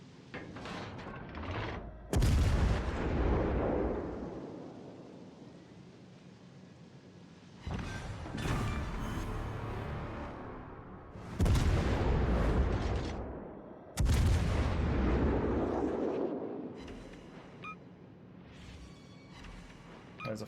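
Naval gun salvos boom in the World of Warships Legends video game, four loud heavy blasts spaced several seconds apart, each rolling off into a long fading rumble.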